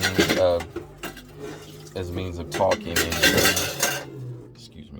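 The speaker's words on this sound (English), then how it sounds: "moving my dishes over here so I can get ready to wash them." Dishes and cutlery clatter and clink as they are moved aside in an Airstream trailer kitchen before washing, with loud close knocks and rattles throughout while someone talks over them.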